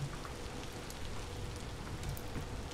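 Steady in-game rain in the survival game Vintage Story, a dense even hiss of falling drops continuing without a break, fairly quiet and alone with no voices.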